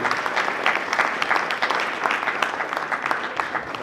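An audience claps steadily, a dense even patter of many hands throughout, fairly close and loud, with a faint murmur of voices beneath.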